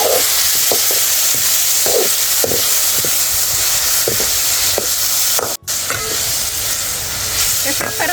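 Tomatoes, curry leaves and peanuts sauté in a hot pan, a loud, constant sizzle broken by regular scraping strokes as the mixture is stirred.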